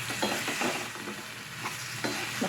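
Cauliflower curry stirred in a pan: a close, steady sizzle with a few soft scraping strokes of the spoon, and no voices.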